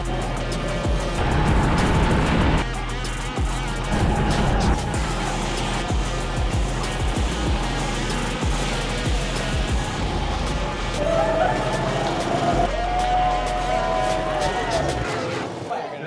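Rotary-engined McLaren drift car drifting at a Red Bull show run in Houston, a loud continuous engine roar with revving swells and tire noise throughout, close and dominant.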